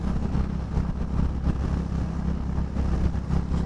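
Honda H'ness CB350 anniversary edition motorcycle riding through Lonavala: a continuous low engine rumble mixed with wind roar, loud and close, no voices.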